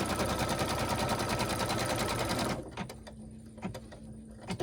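An embroidery machine stitches an in-the-hoop potholder with rapid, even clattering that stops partway through, followed by quieter intermittent clicks and mechanical whirs.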